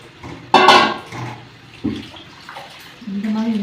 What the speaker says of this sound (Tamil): இப்போ நான் நல்ல தண்ணி ஊற்றி அலசி